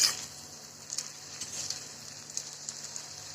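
Spinach vadi pieces deep-fry in oil, a soft steady sizzle with faint crackles and pops scattered throughout, no talking.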